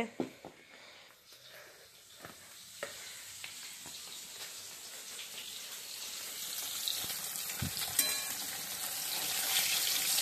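Whole hilsa fish frying in oil in a wok, a soft, fairly faint sizzle that builds toward the end with occasional light pops and stirring scrapes.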